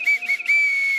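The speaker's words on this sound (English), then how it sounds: "I gotta make sure I blow my whistle" Sharp, loud sports whistle blasts at a roast dinner with a sports-night theme: two short toots and then one long sustained shriek, close and clear with no talk over them.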